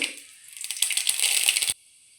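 Mustard seeds and lentils go into hot groundnut oil, a sudden sizzling crackle and patter that swells for about a second, then cuts off sharply into quiet.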